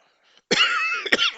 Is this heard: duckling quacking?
no